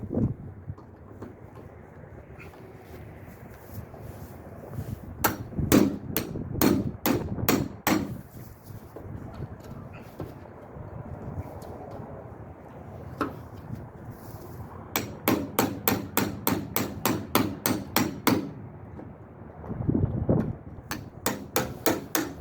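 A hammer strikes to loosen the door striker bolts on a 1957 Chevrolet, coming in close, sharp metallic blows, some isolated and others in quick bursts of rapid taps, with quiet gaps between them.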